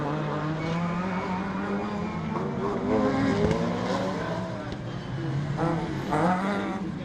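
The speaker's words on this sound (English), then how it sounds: "So Stuart Bowes will drop right to the back of the pack as the leaders go by." Rallycross race cars from the 2019 British Rallycross Retros round roaring past on track, loud and continuous engine notes rising and falling as several cars pass in succession, with a brief tire squeal.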